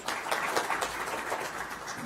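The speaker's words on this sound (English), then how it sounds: "please give him a round of applause" Audience applause at a CG in Canada presentation, a dense, steady wash of clapping hands from a room full of people, fairly loud and continuous throughout.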